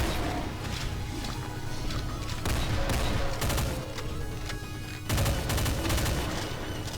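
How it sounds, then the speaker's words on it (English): Rapid gunfire from the Doom 2 map Paradise, shooting at explosive barrels, with bursts of shots and crashing blasts that come in dense volleys and break off briefly before starting again, loud and continuous with no talking. "Everything opens up and there's explosive barrels to shoot now."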